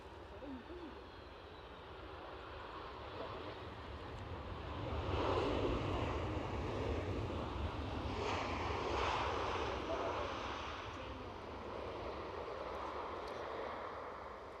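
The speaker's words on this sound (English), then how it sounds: "So it's inbound, really is the Ryanair from Barcelona." Ryanair airliner inbound from Barcelona to Edinburgh Airport sounds as a distant jet roar that swells and fades again under wind noise, with no one talking.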